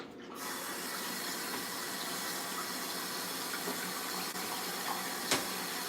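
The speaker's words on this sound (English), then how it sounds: "so now we're gonna go ahead and rinse off our cutting board" Tap water runs steadily over a cutting board being rinsed in a kitchen sink after steak prep, a continuous close hiss and splash with a faint clink near the end.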